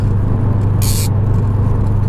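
A Subaru engine fitted with a Gruppe S UEL header and Invidia N1 exhaust, a steady low rumble at idle or light throttle with a brief hiss partway through.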